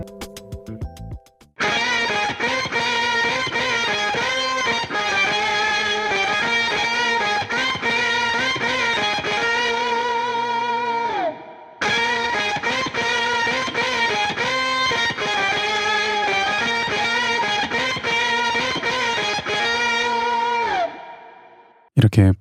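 A blended multi-amp electric guitar tone built in Amplitube 5 for an intro, with pitch shifter, fuzz and room reverb: a dense, sustained, effected guitar part that plays loudly for about ten seconds, stops briefly, then repeats.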